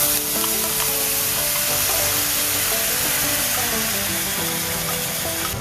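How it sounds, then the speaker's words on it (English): Red masala hitting hot coconut oil with curry leaves in a pan, a loud, dense continuous sizzle and crackle with occasional pops, close and steady throughout with no talk. "Now lower the heat and add in some coconut oil to the same pan. I'll add in some curry leaves and time to add in the red masala."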